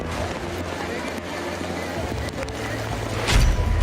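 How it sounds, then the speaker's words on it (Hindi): Fast-flowing floodwater sweeps vehicles along a street, a continuous rushing roar that swells louder toward the end, with a voice talking over it. "पानी का बहाव इतना तेज है कि उसके आगे बड़े बड़े वाहन घुटने टेकते हुए दिखाई दे रहे हैं।"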